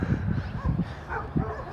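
Neighborhood dogs bark in short bursts, several distinct woofs spaced unevenly at moderate distance.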